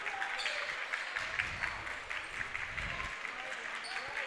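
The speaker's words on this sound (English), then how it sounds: "A crowd recognizing that, clapping for Waupun." Spectators applaud at a boys' high school basketball game, a steady wash of clapping from the gym crowd that swells in the middle, with a commentator's voice over it.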